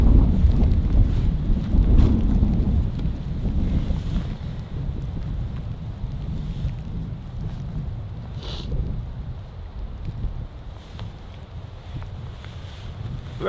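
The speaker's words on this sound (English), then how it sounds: "It's so windy now." Strong wind at a winter snow campsite buffets the microphone in low rumbling gusts, loudest at the start and easing somewhat, with faint outdoor noise underneath.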